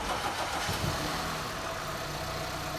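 A 2016 Audi A6 rebuilt after flood damage starts and settles into a steady idle, its engine droning evenly and close by with no talk over it.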